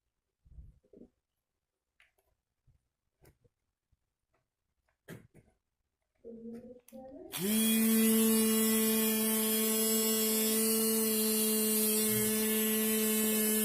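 A homemade motor-driven rig starts after several seconds of scattered quiet clicks and handling knocks. The motor then spins up to a loud, steady high-speed whine with strong humming tones that continues to the end.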